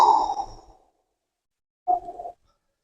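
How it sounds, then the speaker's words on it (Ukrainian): Breathy exhale from a person stretching during a TRX suspension-strap workout at home: one soft, fading breath out at the start, then silence, then a second shorter, sigh-like exhale. "Видихаємо"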